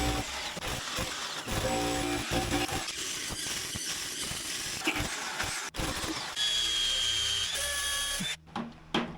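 A power drill with a 1.5-inch-wide bit runs almost continuously, grinding and whining at a high pitch as the bit goes blunt, with brief changes in tone and a short pause near the end.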